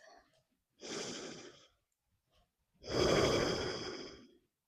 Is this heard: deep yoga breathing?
yes